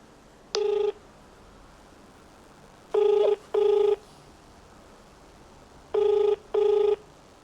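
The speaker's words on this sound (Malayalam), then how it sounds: "അടുത്ത അർജുനെ വിളിക്കാം. 70 14" A telephone rings out on a call in five clear electronic ring bursts, a single one followed by two paired double rings, fairly loud and close against a quiet background with no talk.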